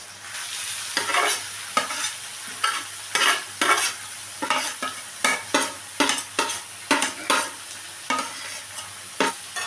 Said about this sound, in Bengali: পটলটা দিয়ে আমি ভালো করে নাড়াচাড়া করে নিচ্ছি